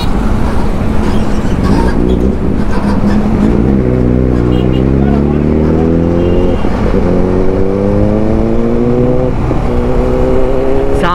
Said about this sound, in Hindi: सामने एक ZX14R जा रहा है और एक निंजा 1000